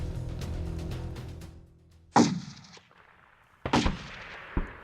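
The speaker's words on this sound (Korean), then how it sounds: "대구역 인근에서 울려 퍼진 갑작스런 총성" Two sudden, loud gunshots crack one after the other near a railway station, each sharp blast followed by a decaying echo, with a smaller report trailing the second, after a stretch of low ambient rumble.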